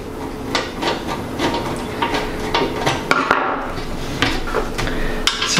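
Screws come out of a Cooler Master Elite 110 mini-ITX case, heard as close, scattered metallic clicks, scrapes and taps on the metal panel, moderately loud with no voices.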